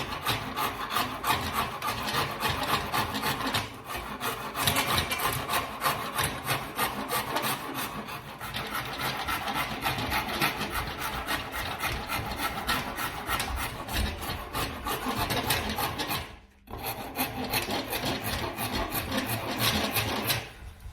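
A rasp works a wooden shillelagh handle, giving continuous rapid rough strokes up close, loud and rhythmic, with one brief pause after about two-thirds of the run.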